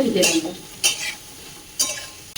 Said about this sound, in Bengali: আমি এদিকে সয়াবিনটা আলুটা ভাজছি